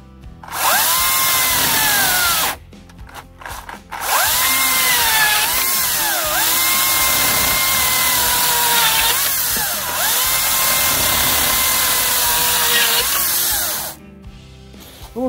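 A Makita DUC356 cordless chainsaw whines loudly as it cuts through wood, pitch dipping under load in several long bursts separated by brief pauses.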